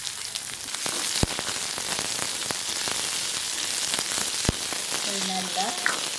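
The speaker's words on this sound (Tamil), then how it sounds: "இதுக்குள்ள இந்த வெங்காயத்தை போட போகிறோம்." Small onions sizzling in hot oil with fennel seeds over low heat in a pan, cooked for a lentil thuvaiyal; a close, steady crackling hiss with sharp pops and spits throughout.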